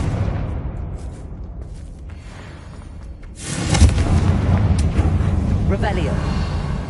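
A Confringo fire spell in the game Hogwarts Legacy, cast with a shouted incantation and bursting into a loud, rumbling explosion that lingers over several seconds, with game voices and effects around it.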